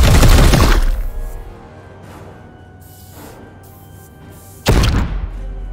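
Burst of gunfire from the turn-based tactics game Warhammer 40,000: Chaos Gate - Daemonhunters, a loud opening volley followed by a quieter lull, then a second sharp, loud burst near the end.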